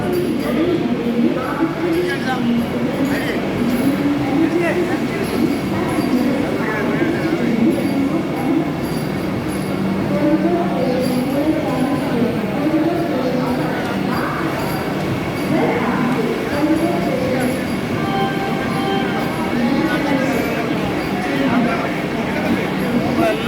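A train rumbles and clanks steadily along the platform, with a busy crowd murmuring and voices chattering throughout.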